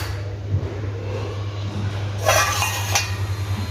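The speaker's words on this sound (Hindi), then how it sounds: "धुले हुए बर्तन।" Washed dishes clink in a home kitchen, with a couple of sharp metallic chinks near the end over a steady low hum.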